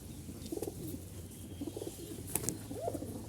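Jalali pigeons cooing close by, soft throaty coos in short bursts with a few quick wing flutters and clicks against a quiet background.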